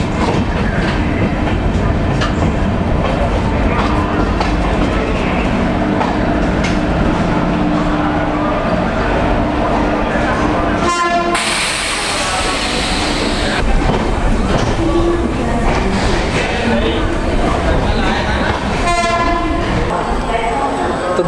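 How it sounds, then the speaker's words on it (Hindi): Humsafar Express passenger train running on rails in India: a loud, steady rolling rumble with rhythmic wheel clatter throughout, interrupted midway by a brief horn-like blast. "तो यदि आप इस ट्रेन में ट्रैवल कर रहे हैं"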